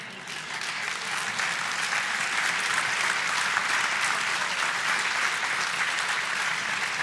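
A debate audience applauds steadily, with dense, even clapping from a large crowd that holds at full strength for several seconds and carries no speech.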